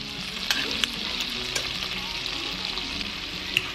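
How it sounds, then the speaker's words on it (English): Garlic sizzling in melted butter in a pan while being stirred, a steady close frying hiss with a few sharp crackles and utensil scrapes, no talking. "Once your butter is pretty well melted down, you're going to add in some garlic"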